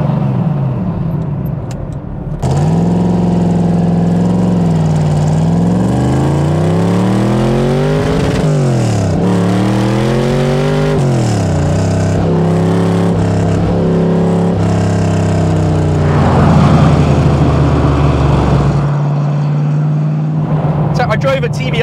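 A 1970s DeTomaso Pantera sports car accelerating, its engine note rising and falling through repeated throttle surges, loud and close, running steadily throughout with a voice talking over it.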